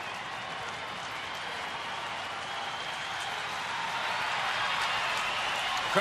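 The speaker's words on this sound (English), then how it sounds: "Crowd trying to help him out. Not a seat to be had here tonight." Packed baseball stadium crowd at a night game, cheering and clapping for the pitcher as a steady roar that slowly swells louder over several seconds.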